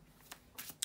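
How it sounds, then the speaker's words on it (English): Tarot cards are shuffled in a brief, quiet riffle of soft papery flutters and snaps, heard alone. "to shuffle the tarot cards"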